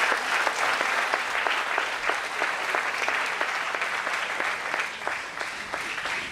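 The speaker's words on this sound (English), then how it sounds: "Can we have a warm applause again for all the dignitaries" An audience applauds dignitaries at a yoga event in India, a steady, dense clapping that holds evenly for several seconds.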